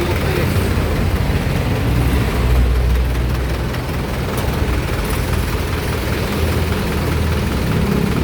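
Isuzu 4BC2 diesel engine idling with its minor (idle speed) being adjusted, a steady low rumbling drone that holds close and even throughout without breaks.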